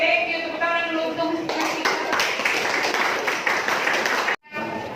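Applause in a classroom: a burst of clapping from a group of students, fairly close and lively, running for several seconds before cutting off abruptly.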